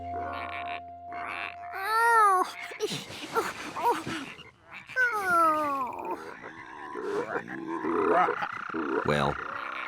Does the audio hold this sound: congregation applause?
no